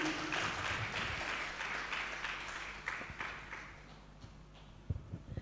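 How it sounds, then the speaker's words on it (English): Applause at a suppliers forum after a presentation, fairly faint clapping that starts fuller and thins out, with a few scattered louder claps and taps toward the end. "round of applause"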